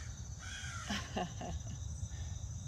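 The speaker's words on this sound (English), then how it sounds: "The crows do that in the morning when they want to talk." A few quick, harsh crow caws ring out in a short burst in the morning, fairly faint against a quiet outdoor background.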